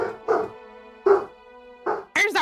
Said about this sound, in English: the sounds of a howling wolf in the distance